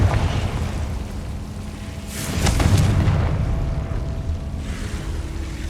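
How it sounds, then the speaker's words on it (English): Confringo fire blast spell from the video game Hogwarts Legacy, a deep booming explosion rumbling low with a bright crackling burst in the middle, fading into a lingering roar. "Confringo."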